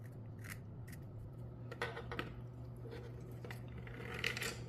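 A graphite pencil is shaved with a utility knife, producing quiet, scattered scraping cuts and sharp little clicks over a low steady hum, with no speech.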